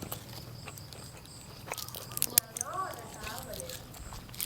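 Close, moist chewing and biting of koi, a Thai spicy minced meat salad, eaten at breakfast, with soft crunches and a few sharp clicks and light background voices.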